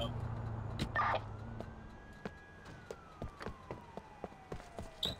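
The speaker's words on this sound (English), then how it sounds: "Why is there a police car out here?" Police car siren in GTA IV, a faint single wail slowly rising and falling behind a low engine drone, with scattered clicks and brief noises.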